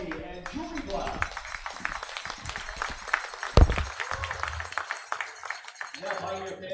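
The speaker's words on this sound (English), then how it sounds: "Baseball fans, please give a huge round of applause for Toby and Julie Black." A baseball crowd applauds at a game between the Australian Select Colts and the Western Nebraska Pioneers. The clapping is steady and moderately loud, with a stadium announcer's voice running over it and a sharp thump partway through.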